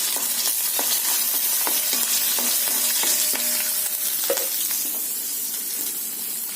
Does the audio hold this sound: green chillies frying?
yes